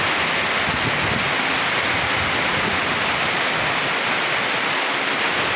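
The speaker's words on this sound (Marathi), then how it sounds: "पाऊस जोराचा एकदम जबरदस्त धोकी परिसरात पाऊस तुफानी" Heavy monsoon rain pours down on a road in the Dhoki area, a dense, unbroken roar of falling water filling the scene at constant loudness, with no voices over it.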